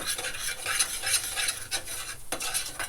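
Sprouts curry ingredients frying in a pan as they are stirred, a close bright sizzle broken by brisk scraping strokes of a spoon against the pan over a few seconds.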